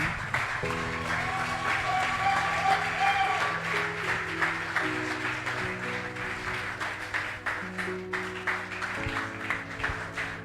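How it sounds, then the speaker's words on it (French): A church congregation applauds to welcome a pastor. Steady, dense clapping and cheering carry on for about ten seconds under sustained organ or keyboard chords that play throughout. "nous allons l'accueillir par des acclamations"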